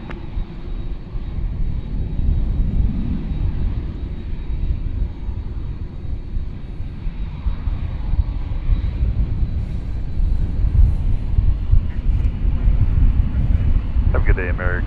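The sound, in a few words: airplane taking off from runway 18 left at DFW Airport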